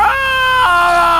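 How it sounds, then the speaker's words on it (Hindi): A loud, sustained scream cuts through the silence in a Hindi horror story, rising sharply, wavering and holding for more than a second, close and intense with no other sound beneath it. "सन्नाटे को चीरती हुई एक चीख"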